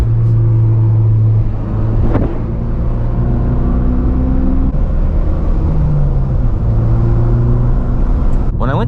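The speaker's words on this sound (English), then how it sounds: "Now you can hear that burble kicking in." A Ford Focus RS with aftermarket modifications drives through a canyon, its exhaust giving a steady low drone with shifting engine tones. A sharp pop comes early and a crackle near the end.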